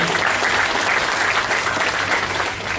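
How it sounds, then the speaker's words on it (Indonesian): An audience applauds ICT teachers at a gathering, a dense, continuous, fairly loud burst of clapping that holds steady for a few seconds. "Tepuk tangan dulu buat teman-teman guru TIK."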